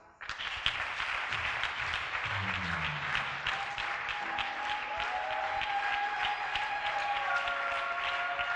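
A church congregation at a marriage seminar applauds and cheers to glorify God, a full, continuous roar of clapping from many people, with a few raised voices and a sustained tone partway through.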